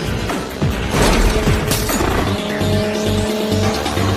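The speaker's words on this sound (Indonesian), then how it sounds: "Brian langsung memacu mobilnya untuk memburu para penembak tersebut." Cars racing in a movie chase, loud engines roaring and revving close by with tire squeals and skidding, a sharp whoosh as one passes, and a sustained engine drone continuing to the end.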